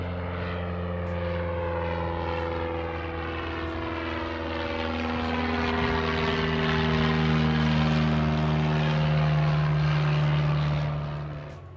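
A propeller airplane passes overhead near the Blue Water Casino in Parker, Arizona, its droning engine loud and steady, swelling as it comes closer and then fading away at the end.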